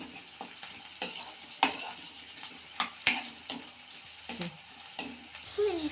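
A spoon repeatedly scrapes and stirs through frying ingredients in a pan for chicken cashew curry, with a steady sizzle underneath and sharp, irregular metallic taps close by.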